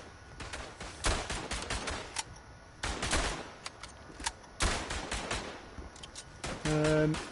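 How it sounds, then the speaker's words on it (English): Hotchkiss machine gun firing in the WW1 video game Verdun, heard as repeated bursts of gunfire off to one side amid a busy battlefield, with several loud shots close by. "There's the Hotchkiss you can hear to the right of me."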